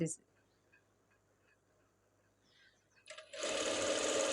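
A sewing machine starts up after a quiet pause while stitching blouse lining fabric, its fast, dense mechanical whirr coming in loud and close near the end.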